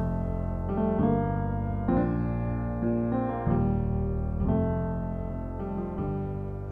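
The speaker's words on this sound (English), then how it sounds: "So I'm starting by loading Virtual Instrument, Elegance Piano Soft." Elegance Piano Soft virtual piano instrument played in n-Track Studio, a series of sustained chords struck every second or so, each ringing on and overlapping the next, rich and steady with no voices.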